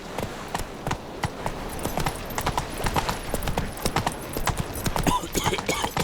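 Roach, Geralt's horse in The Witcher 3, trots with steady close hoof clip-clops on a hard path, a continuous rhythmic patter running throughout amid ambient game sound.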